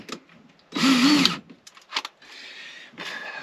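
A power drill whirs in three short bursts, the first loudest, drilling a hole in a tuna can with a bit smaller than 10mm, separated by brief pauses and small knocks.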